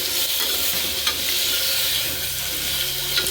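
Tomato and onion sizzle steadily in a frying pan, a close, even hiss with a few faint stirring clicks, no speech.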